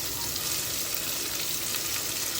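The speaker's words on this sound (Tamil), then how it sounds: "இந்த வெங்காயம் நல்லா ப்ரௌன் ஆகிற வரைக்கும் வதக்கிப்போம்." Sliced onions with cinnamon and cloves sizzling steadily in a pot for veg pulao, a continuous close frying hiss with no pauses or voices.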